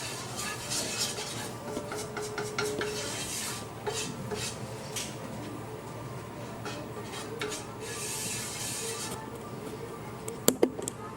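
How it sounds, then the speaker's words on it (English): Oil and spices are stirred together in a paella pan for seafood paella, a steady scraping and rubbing of a utensil against the metal, close and continuous, ending in a couple of sharp clinks. "we are going to dilute or mix together the oil and all the spices first"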